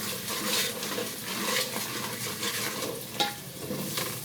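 Spices being stirred in a pan for kadhi pakora, with a soft sizzle and repeated scraping of a spoon against the pan, fairly quiet and close.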